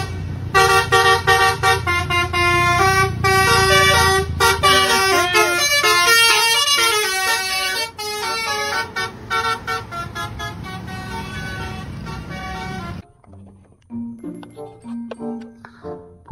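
Indonesian bus horns play loud musical telolet melodies in repeated bursts, with several tuned blasts over road and crowd noise; the horns stop near the end, leaving softer scattered tones.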